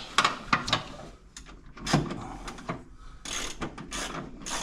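Hand tools working on a bolt of a 1963 Renault Caravelle during a rebuild, a series of close metallic clicks, ratcheting and clunks in uneven bursts, fairly quiet.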